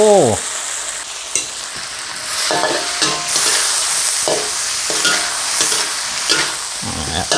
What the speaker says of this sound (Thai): ผัดผัดให้เข้าเนื้อสักหน่อยครับ